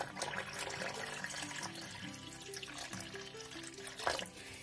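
Water poured into a dough mixture of dry ingredients and oil for a vegan pie batter, a steady running splash of moderate loudness that continues without pause and carries no speech.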